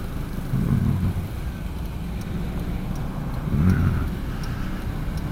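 Car driving along a torn-up city road near Mall of Asia, with scooters and motorcycles lane splitting around it; steady engine and road rumble with two louder swells as nearby vehicles pass.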